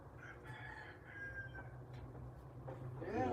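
A rooster crows in the background of a Jamaican outdoor setting, its call faint and somewhat distant over a steady low hum, with a clearer harmonic crow rising near the end.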